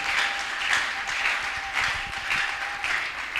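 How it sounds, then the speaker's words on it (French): A church congregation applauds together in a steady, fairly loud wash of clapping that swells and eases in rhythmic waves across the whole stretch, with no voices over it. "Acclamons."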